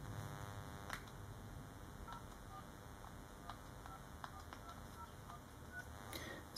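Telephone dialing tones played through a Jabees JMusic Mini Bluetooth speakerphone, a series of short distinct key beeps spaced irregularly over a faint steady hum, quiet and alone.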